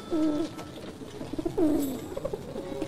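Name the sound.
racing pigeons cooing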